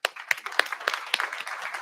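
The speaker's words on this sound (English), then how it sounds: "Everyone give him a big round of applause, please." Audience applause at an Army VERTEX energy event at Capital Factory in downtown Austin, a short, fairly quiet spatter of claps with a few sharper hits, fading rather than building.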